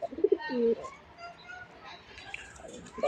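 Pigeons, a pair of Rajgolla, Deshi Bombai or Giribaz breed, coo twice in short low bursts near the start and again at the end, close and moderately loud against a quiet background.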